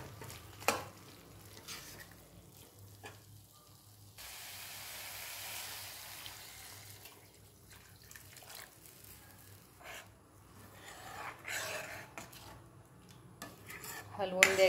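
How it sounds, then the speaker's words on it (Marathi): Fried gram-flour vadi is stirred in a pan, with a metal spoon clinking and scraping against the cookware over a faint frying sizzle, in irregular bursts that grow busier toward the end. "चांगलं हलवून घ्यायचं आहे आणि त्यामध्ये गरम पाणी टाकायचं आहे।"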